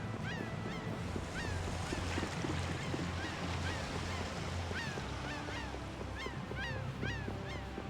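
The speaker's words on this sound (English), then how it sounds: "Them seagulls." Seagull cries in the video game Tales of Vesperia, repeated short squawks over a continuous seaside wash of surf and harbor ambience, moderately faint and without talk.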